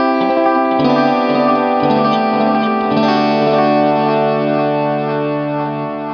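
Guitar played through a Boonar Tube Deluxe tape delay set to an old, worn-out character, with sustained notes smeared into echoes and a light, wobbly pitch modulation, loud and continuous with no talking.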